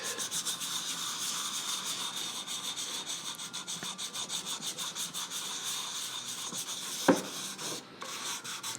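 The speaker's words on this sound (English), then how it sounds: "sanding those grooves back into place" Quiet, steady rhythmic scraping of sandpaper rubbing back and forth over a hard 3D-printed Spider-Man shell, continuous strokes with a brief knock near the end.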